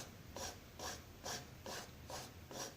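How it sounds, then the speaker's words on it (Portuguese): A nail file, fine side, lightly rubbing excess paint off the edge of an MDF invitation box: six evenly spaced rasping strokes, close and fairly quiet, with no talking. "vou com a lixa de unhas do lado mais fininho ir passando para tirar o excesso bem de leve"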